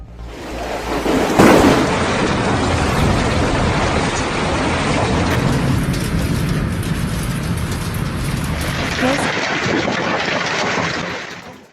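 A violent storm in China, with fierce winds and rain around Changzhou and Taizhou, makes a loud, steady roar of rain and wind. A sharper burst comes near the start, and no voices are heard.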